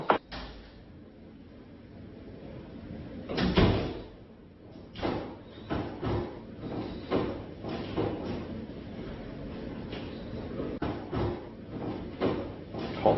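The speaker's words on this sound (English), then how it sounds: "Oh, the door's opening and shutting." A door opening and shutting repeatedly in a house at night, giving a series of thumps, knocks and latch clatters over a steady background hiss, with one heavier thud partway through.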